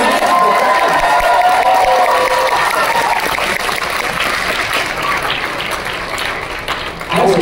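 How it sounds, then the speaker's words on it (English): At a dance competition awards ceremony, a crowd gives another round of applause to Great X, with loud, sustained clapping mixed with cheers and shouts. A voice is briefly heard early on, and a fresh swell rises at the close. "Give Great X another round of applause."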